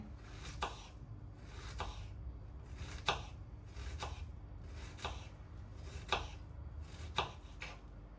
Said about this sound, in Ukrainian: Ось і так дрібненько нарізаю.